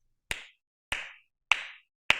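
Four sharp, bright claras hand claps, struck with three fingers on the palm in flamenco palmas style, ring out one at a time at an even, unhurried pace against silence.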